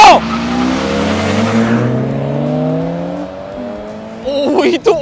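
A drag race launch between a 1991 BMW E34 and a Subaru BRZ: engines roar loudly and climb steadily in pitch as the cars accelerate away, with a short burst of harsher noise right at the end.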